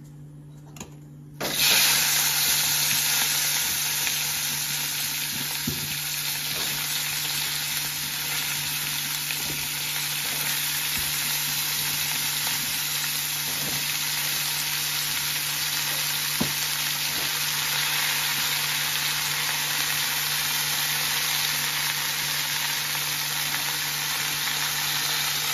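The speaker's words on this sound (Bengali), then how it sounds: "ওইটার মধ্যেই আমি ফুলকপিটা ভাজা করে নেব।" Cauliflower drops into plenty of hot oil left in a kadai, and a sudden loud sizzle takes over, holding as a steady, close, broad hiss with occasional small pops for the rest of the time.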